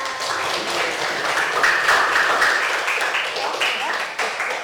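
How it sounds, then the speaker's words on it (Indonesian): Classroom applause for a classmate after a group presentation on environmental pollution, a steady burst of many hands clapping up close, with voices chattering underneath. "beri tepuk tangan untuk temannya"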